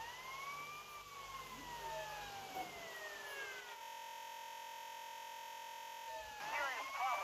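A police car siren in the game GTA Vice City wails in rising and falling sweeps, then holds a steady tone before the wail resumes, loud and close.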